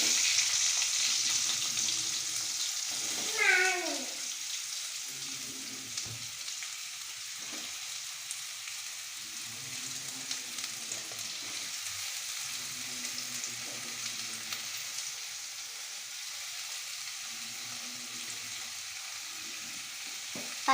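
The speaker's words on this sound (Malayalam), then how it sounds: "അപ്പോൾ ഗസ് നമുക്ക് സവാള ഇട്ടെടുക്കാം." Sliced onions frying in a pan, a steady, close sizzle that continues without talk, with a brief stirring clatter early on.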